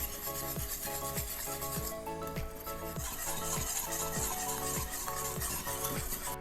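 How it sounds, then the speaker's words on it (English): Eggs and other ingredients for Korean steamed eggs (gyeran-jjim) are whisked in a bowl with brisk, evenly spaced strokes under steady background music. "Just keep whisking."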